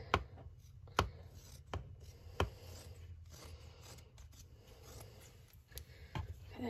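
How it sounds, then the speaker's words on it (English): Scissors cut fabric for a potholder in a run of crisp snips, a few sharper than the rest, with quiet rustling of the cloth between them, close and soft. "Then I'm just going to take my scissors and cut it out."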